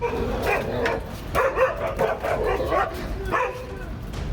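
A Malinois dog barks repeatedly at close range, loud yelps and woofs in uneven bursts with short gaps, some sounding strained or whining, over a noisy background.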